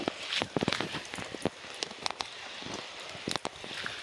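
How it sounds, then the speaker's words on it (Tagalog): Rain falls through a wet afternoon as a steady broadband patter, with irregular louder drops striking nearby surfaces at close range, alone with no talk. "yung maulan na hapon"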